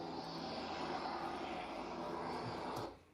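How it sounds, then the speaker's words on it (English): A helicopter at a New York court arrival gives a steady, distant engine roar that holds evenly and then fades away in the final moments. "They got him coming off of a chopper here."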